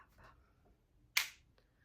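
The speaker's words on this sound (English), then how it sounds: "purposefully make like a little crystal clap" A single crisp clap of small crystals struck together during a quiet Reiki ASMR session, one sharp bright tick standing alone in near silence.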